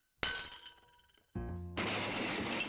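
Glass shatters in the video game Edna bricht aus, a sharp loud smash followed by a second crash with tinkling shards scattering, no one talking.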